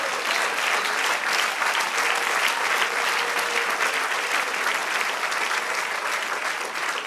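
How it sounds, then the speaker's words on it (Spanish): A church congregation applauds in a dense, steady roar of clapping that holds loud and even for several seconds, with no talk over it. "Del aplauso al Señor."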